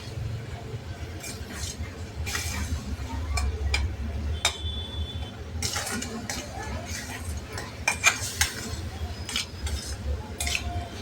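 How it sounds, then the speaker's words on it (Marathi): Mango pulp and filling for steamed modak being stirred and sautéed in a pan, with scattered light clinks and scrapes of a utensil against the metal over a steady low hum, plus brief faint background sounds. "बघा, आपलं सारण छान घट्ट होतं आहे. असं परतून घ्यायचं आहे."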